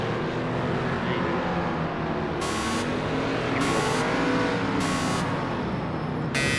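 Race car engines from the Project Cars 2 video game at a rolling start among Mustangs, a loud sustained engine drone with shifting revs, plus bursts of tire squeal or buzzing, with no talk.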